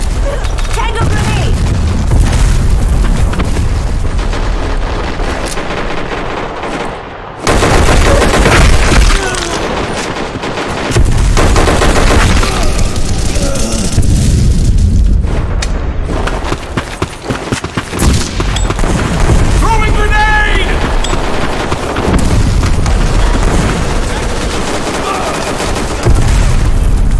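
Heavy gunfire and grenade blasts from the online shooter Black Squad, with dense rattling bursts and deep booms running loud and nearly nonstop, broken by a couple of brief drops, while voices speak over the combat.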